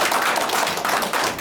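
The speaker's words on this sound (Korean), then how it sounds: "네, 박수 부탁드리겠습니다." A lecture audience gives a short burst of dense, steady clapping, with many hands applauding at once for about a second and a half.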